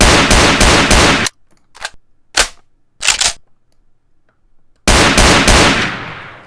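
Rifle gunfire in Garry's Mod Half-Life 2: loud bursts of rapid shots, then a few single cracks and quieter pauses, and another rapid burst at the end.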